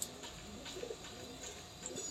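A female pigeon gives a soft, low coo, faint and brief, close by with no talk over it.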